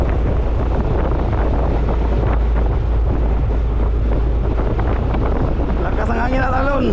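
Strong wind buffets the microphone constantly over rolling sea waves near a fishing boat checking traps, a loud steady roar throughout, with a voice briefly speaking near the end.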